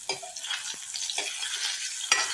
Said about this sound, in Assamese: লুটিয়াই ভাজি লওঁ